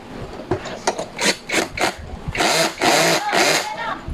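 Bolts being tightened while assembling a black mesh office chair: a run of short raspy scraping and ratcheting strokes, close by, with some talking mixed in.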